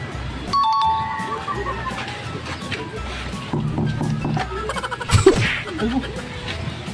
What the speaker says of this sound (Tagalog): May doorbell naman pala.